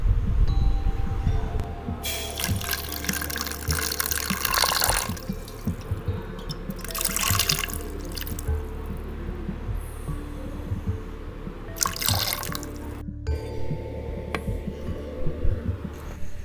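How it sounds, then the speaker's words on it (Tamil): Tamarind water poured into a cooking pot for a village-style dried anchovy curry, heard as several splashy liquid bursts separated by quieter stretches of background hum and faint drips. "நம்ம கரைச்சி வச்சுருக்க புளி தண்ணியை இதில் அப்படியே எடுத்து ஊற்றிக்கலாம்"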